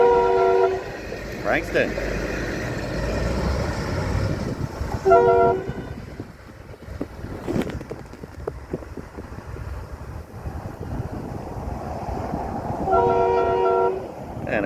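A train horn blasts in short repeated bursts as the train rumbles past nearby, with wind buffeting and someone talking over it.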